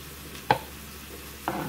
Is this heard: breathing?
no